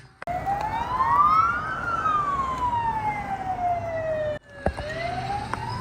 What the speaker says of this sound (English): the sound of an air raid